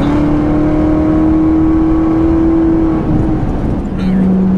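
A 765 hp Corvette C7 ZR1 pulls hard in seventh gear, its engine tone holding a loud steady note heard from inside the cabin, with a shift in pitch near the end; someone talks over it.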